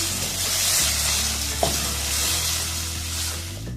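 Minced chicken and spices sizzle in a hot pan as they are stirred together for a calzone filling, making a steady frying hiss with soft scraping movements and a low hum underneath.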